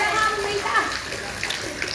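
Strong floodwater current rushing through a flooded street in Cabanatuan City, a steady loud wash of water with faint voices in the background.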